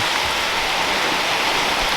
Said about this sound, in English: It's a lot of rain too.